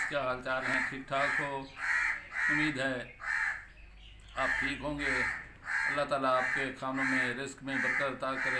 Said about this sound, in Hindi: छत पर भी कौवा बहुत बहुत बोल रहा है